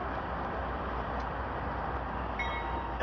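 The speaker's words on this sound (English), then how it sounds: "Where is this train going?" Freight train rolling past during a train-hopping trip, a steady broadband rumble of wheels and cars that holds for the whole stretch, with faint higher squeals near the end.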